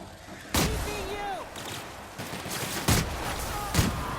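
Gunfire in The Outer Worlds video game, a handful of sharp, loud shots spaced a second or so apart over a busy background with brief whistling effects.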